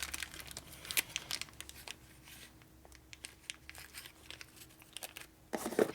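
A bag of parts for an S&S 113ci Evo Harley motor, including a shim kit, is rummaged through, with soft plastic crinkling, rustling and scattered light clinks, close and fairly quiet, louder near the end.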